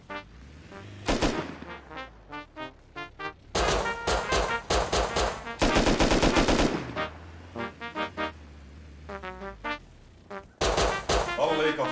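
Gunfire in the video game Rust, bursts of sharp rapid shots and sustained automatic fire in clusters with short pauses between, loud and close.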